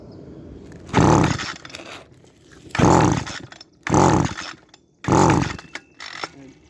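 An Echo SRM-200BE string trimmer engine that runs poorly gives four separate throttle bursts, each roaring for about a second before dropping back to a quiet low idle.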